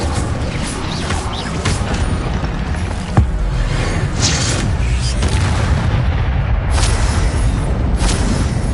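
Fire spell cast in the Hogwarts Legacy video game: a dense, loud rumbling burst with crackling roar that sustains throughout, with one sharp impact partway through and no talk.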